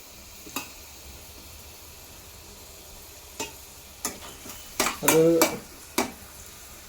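Crushed shallots fry in a pan with a soft, low sizzle, broken by scattered spoon scrapes and clinks against the pan and a louder burst of stirring clatter near the end. A brief spoken word comes through close by.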